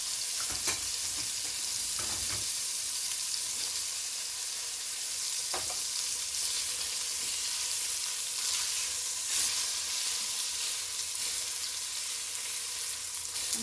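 Patty sizzling in a frying pan while being stirred, a steady bright hiss throughout with occasional scraping taps of the utensil, close and moderately loud, no talking.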